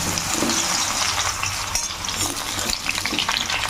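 Cut mango pieces fry in hot oil with tempered spices while being stirred, a loud, close, continuous sizzle with scraping from the stirring and no talking.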